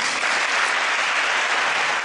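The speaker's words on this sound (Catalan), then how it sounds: "demano un fort aplaudiment per tots vosaltres" An audience at a charity jazz band concert gives sustained applause, a dense, even roar of many hands clapping throughout.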